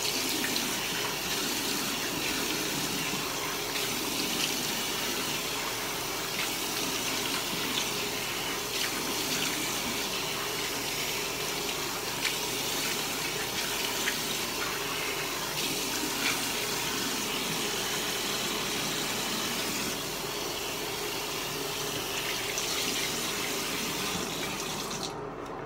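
A tap runs steadily into a sink throughout while a face is washed, a continuous close splashing rush with faint irregular drips and hand splashes layered on top, no speech.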